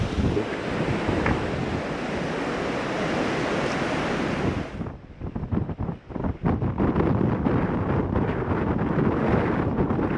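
Water rushes through rocks below Steall Falls in Glen Nevis as a steady, broad roar, buffeted by gusty wind on the microphone that dips and surges in the second half.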